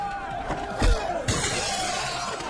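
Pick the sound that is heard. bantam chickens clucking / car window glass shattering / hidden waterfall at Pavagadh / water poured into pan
car window glass shattering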